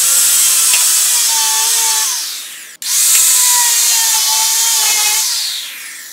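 A small power-tool cutting disc slices a wooden dowel at a 45-degree angle, a loud whining grind held for about two seconds, a brief break, then a second whining pass that slowly fades, with no talking.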